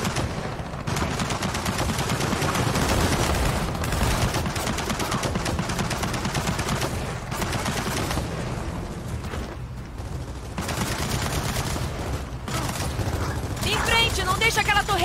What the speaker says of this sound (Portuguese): Uma torreta!